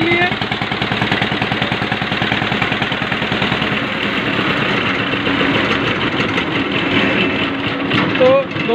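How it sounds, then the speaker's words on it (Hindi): A diesel tractor engine idles steadily after a key start, a dense rhythmic mechanical chugging that runs loud and unbroken throughout, close by, with no voices over it. "हमने आपको स्टार्ट करके दिखाया कि इसमें स्टार्टिंग में कोई प्रॉब्लम नहीं है"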